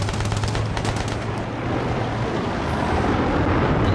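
Dense, continuous gunfire from the Battlefield 3 Kharg Island Conquest map, a loud rapid barrage of shots layered over a roaring battlefield wash with no pauses.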